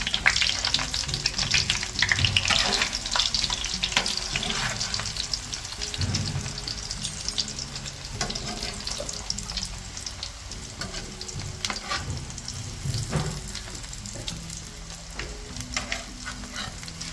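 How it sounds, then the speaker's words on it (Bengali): Tikia patties frying in hot oil make a steady, close crackling sizzle that runs without a break, with occasional soft scrapes and knocks over it. "তাড়াতাড়ি করে আমি টিকিয়াগুলোকে ভেজে নিচ্ছি"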